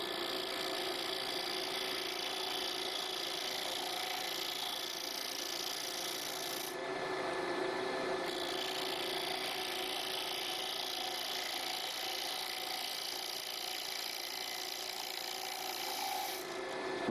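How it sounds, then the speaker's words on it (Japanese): A woodturning lathe takes a light finishing cut, shaving off thin threadlike strands; a steady, continuous raspy scraping over the lathe's hum, close and even, with no talking. "さっきやった仕上げ削り糸くずのようなものを出すように少し削るわけですね"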